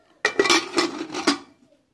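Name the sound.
adding fried potatoes to mutton keema pot and stirring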